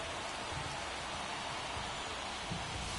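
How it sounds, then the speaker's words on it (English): Rain falls on a baseball field in MLB 23, a steady, even hiss of downpour with no break, soft and continuous. "the field's not going to be able to hold up if the rain gets any worse than this"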